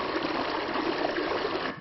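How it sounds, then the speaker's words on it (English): Synthetic stream water texture generated from noise: a steady, dense rushing and trickling wash that runs evenly throughout at moderate loudness, with no voices. "stream"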